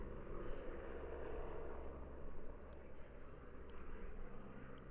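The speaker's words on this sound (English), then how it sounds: "helicopter dropping off supplies." A helicopter drops off supplies in the Swiss Alps, heard as a faint, steady distant rumble of rotor and engine noise lasting throughout, with no voices.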